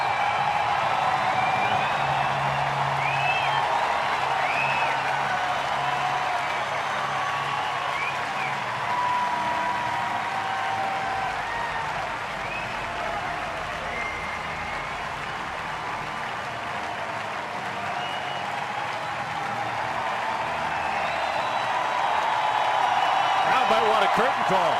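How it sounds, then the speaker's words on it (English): A baseball crowd at Turner Field roars and applauds in a dense, sustained wash of cheering and clapping that holds steady for the whole stretch, with announcers talking over it. "Listen to the crowd at Turner Field."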